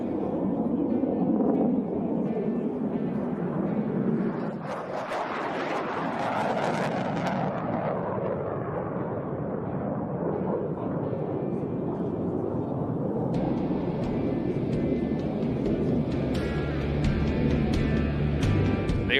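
F-16 Fighting Falcon fighter jets of the 64th Aggressor Squadron fly past at an air show, a loud continuous roar that swells and shifts in pitch as they pass, with no talk over it.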